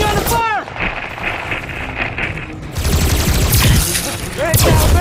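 Automatic gunfire rattles in fast bursts during a chaotic military firefight in an action film. Loud rapid volleys come at the start and again through the second half, with shouting voices mixed into the noise.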